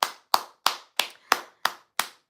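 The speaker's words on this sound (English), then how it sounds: "we all gotta clap for that" Eight sharp, evenly spaced hand claps ring out close and alone, a slow steady rhythm of single crisp smacks with quiet gaps between each.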